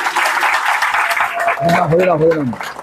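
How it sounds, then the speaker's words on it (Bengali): An audience at a devotional Harikatha gathering in Gayespur breaks into loud, dense applause, with a voice speaking over the clapping toward the end. "ওনার জন্য সকলে একটা জোরে করতালি বাজিয়ে দিন"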